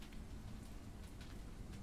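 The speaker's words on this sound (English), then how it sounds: "Oh, it must be raining hard out there." Heavy rain in the World of Warcraft game world, a steady, fairly quiet hiss of falling drops with faint patters, constant throughout with no voices.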